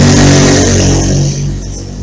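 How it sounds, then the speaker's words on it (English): Loud passing road traffic with a car engine revving, a steady broad rumble that swells early and slowly eases off, no voices. "got a bit of traffic noise at the moment"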